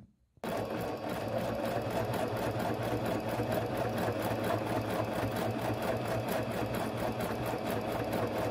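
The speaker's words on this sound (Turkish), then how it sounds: "Kumaşımızın üzerindeki overlock dikişimizi bitirdik." A Singer Brilliance 6160 sewing machine runs an overlock stitch on fabric, starting after a brief silence and then whirring at a steady, fast, even rhythm, close and unbroken, with no talking.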